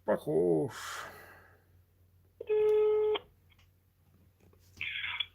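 A telephone ringback tone sounds once as a steady electronic buzz while a call is placed, with a brief voice before it and a short, fainter beep or tone afterward.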